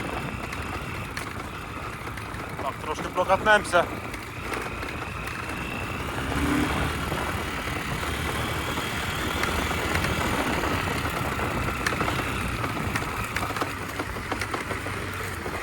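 MTZ tractor engine running while driving with a military disc harrow, a steady rumbling drone throughout, with brief speech early on over the engine.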